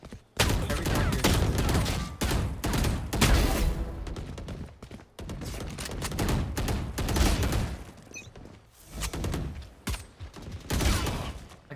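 Dense gunfire from a competitive shooter video game crackles in rapid bursts and volleys, loud and close, with short pauses between clusters of shots.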